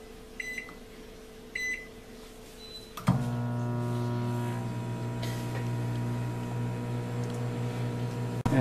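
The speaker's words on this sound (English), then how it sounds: "for those of you wondering how loud the microwave is, it's registering at 60, 55 to 60." A Frigidaire countertop microwave oven: two short keypad beeps, then a thump as it starts and a steady, moderately loud electric hum with fan whir that runs to the end.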